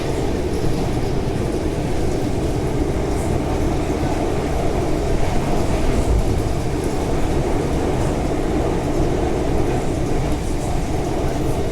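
Steady rumble of a commuter train on the Kapiti Line in Wellington cruising at about 100 km/h, heard from inside, a continuous low roar with faint rail noise and no voices.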